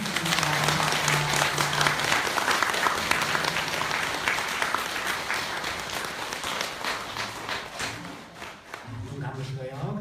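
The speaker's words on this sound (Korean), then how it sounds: "네, 박수 주십시오." A temple audience at a Buddhist dharma talk at Seongjusa in Changwon applauds loudly and continuously for several seconds before it tapers off, with faint voices underneath.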